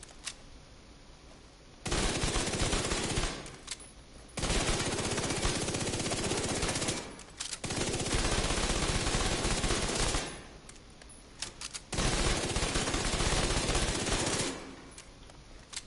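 SMG gunfire in The Division video game: four long, loud bursts of rapid automatic fire, each lasting one to three seconds, separated by short quieter gaps.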